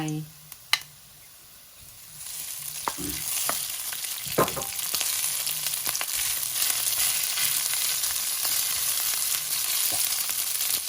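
Garlic and rice stir-fried together in a pan for fried rice. After a quiet opening with a few clinks, a steady sizzle sets in, broken by intermittent scraping strokes of the spatula.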